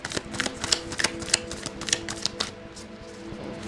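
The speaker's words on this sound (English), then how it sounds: "this deck is shuffling beautifully today" A tarot card deck being shuffled by hand, giving a run of quick, crisp papery riffles and taps close to the microphone, steady for several seconds with no talking.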